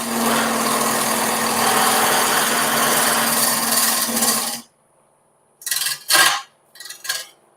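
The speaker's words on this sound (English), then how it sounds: "And that is shearing off resin." A power tool shears resin with a loud, steady high-pitched grinding whine for about four and a half seconds, then stops; a few short bursts follow after a pause.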